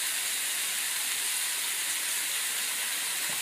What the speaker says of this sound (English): I can leave that light to simmer.